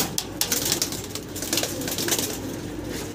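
Fancy Mundian pigeons coo in a loft, soft repeated throaty calls mixed with rustling and busy background noise, fairly close and with no voices.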